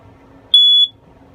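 A single short, piercing electronic beep from a smoke alarm, mounted on the wall of a 2019 R.Pod 190 travel trailer, sounds once against a quiet room background.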